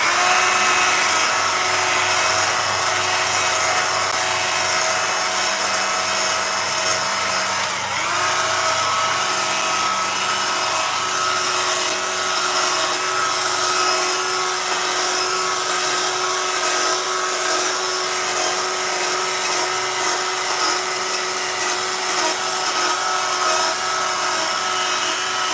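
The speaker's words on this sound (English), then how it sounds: "I got to go through with power tools and hit all the edges we're creating to kind of round things out" A high, steady power-tool whine grinds and smooths the edges of a chainsaw-carved wooden rooster, loud and continuous, with brief dips as the tool presses into the wood, no voices.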